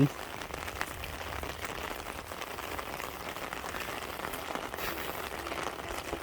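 Steady midday rain pours over rice paddies ready for planting, a dense, even hiss of drops on surfaces that holds constant from start to finish with no voices.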